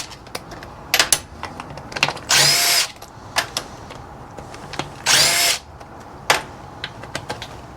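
A power tool on a 2000 Harley Davidson FXDS dyna during clutch replacement, removing bolts in two loud, sustained whirring bursts of about half a second each, separated by clicks and clatter of small parts.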